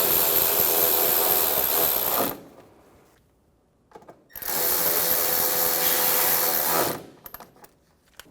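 A power drill drives screws into the rear of a plastic inner fender liner on a 2012-2020 Chevrolet Sonic, two loud sustained whirring bursts separated by a pause filled with faint clicks and handling noise.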